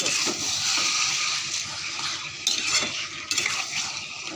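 Meat stirred and sautéed in a pan, with a loud close sizzle broken by scraping, clinking spatula strokes that come in quick bursts.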